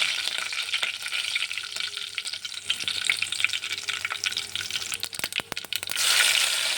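Cumin, mustard seeds and curry leaves spitting in hot oil for Konkani kadhi, a continuous close sizzle with sharp popping crackles bunching near the end and a brighter hiss surging at the finish.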